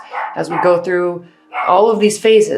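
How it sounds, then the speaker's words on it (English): A dog barks repeatedly indoors in short yelping bursts, close and loud, partly under someone speaking over it. "I'm just going to let him bark and hopefully he stops for a minute."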